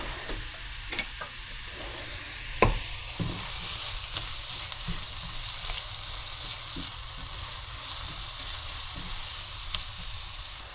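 Coconut curry bubbles in a pot on the stove, giving a soft, steady sizzle and crackle with scattered pops and a few sharper clicks, faint and close, without talk.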